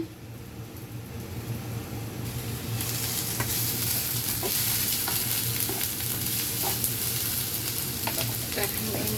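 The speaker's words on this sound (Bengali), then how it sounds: "আমি যে ভেন্ডিটা ভাজি করে নেব তো আমি পেঁয়াজ দিয়ে দিলাম" Onions fry in a pan for an okra dish, a dense, loud sizzle that swells partway through and holds steady with scattered crackles and stirring scrapes; no voices.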